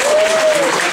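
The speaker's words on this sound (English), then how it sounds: "Give Jack a big round of applause" Loud, dense applause from a comedy-club audience at a science-festival show in Glasgow as a volunteer heads to the stage, a thick continuous clatter of clapping close and full.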